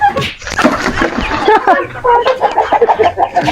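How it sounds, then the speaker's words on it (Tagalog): A chicken clucks in short, rhythmic bursts close by, overlapping with people talking in the background. "Yang manok ya kay."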